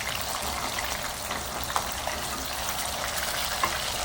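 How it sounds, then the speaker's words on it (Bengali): Katla fish fry in hot oil with a steady, dense sizzle and occasional faint pops, continuous throughout. "এই জন্য মাছগুলো একটু লালচে লালচে করে ভেজে তুলবেন"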